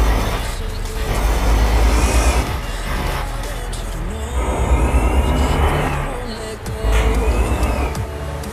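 A Hino dump truck rolls through a very narrow village road in Euro Truck Simulator 2, its engine droning and swelling in repeated waves close up, while someone talks excitedly over it.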